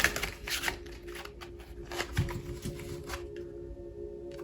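Tarot cards being shuffled and drawn by hand, a run of quick papery riffles and flicks close up, with no voice over them.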